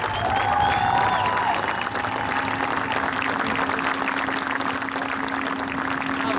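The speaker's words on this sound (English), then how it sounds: "Ladies and gentlemen, one more round of applause for the legend, Curt Hansen." Crowd applause and cheering at a dirt-track speedway honoring a legendary racing driver, dense and steady throughout, with a few whistles rising early on.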